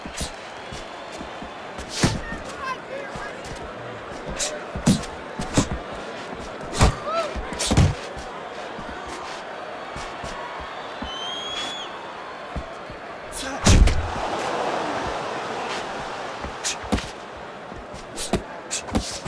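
Punches thud and slam in a Fight Night Champion boxing match between Sugar Ray Leonard and Gennady Golovkin, scattered sharp impacts with a blocked headshot, under a commentator talking and faint crowd noise.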